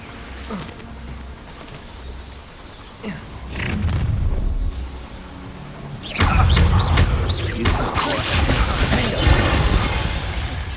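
Bombarda spell explosions in the Hogwarts Legacy video game, a series of heavy booming blasts and crashing debris, starting with scattered thuds and building into a loud, sustained roar of explosive impacts in the second half.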